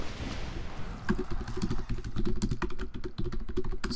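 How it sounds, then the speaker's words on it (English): Loud computer keyboard typing during a game: dense, rapid clacking keystrokes in irregular bursts, close to the microphone, with an engine-like hum underneath. "So loud with my typing"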